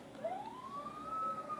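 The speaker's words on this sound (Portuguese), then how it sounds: "simplesmente começa a tocar a sirene" Police siren in the street racing game Midnight Club 3, a single rising wail that climbs and holds steady at a fairly faint level, with no talk over it.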